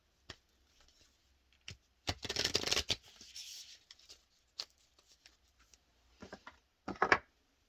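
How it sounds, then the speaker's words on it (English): A tarot deck being shuffled by hand: a few quiet riffling bursts, the longest near the middle and another near the end, separated by soft taps and near silence, with no talking. "I'm going to pull a card for you."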